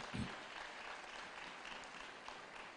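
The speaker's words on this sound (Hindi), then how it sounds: "ताली बजाएं प्रभु के लिए जोर से" Church congregation applauding loudly for the Lord, a dense, steady wash of clapping with a brief louder burst at the start, sustained throughout.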